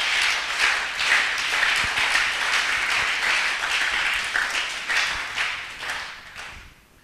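A church congregation applauds in a sustained, dense wave of clapping that fills the room, loud and steady before tapering off near the end.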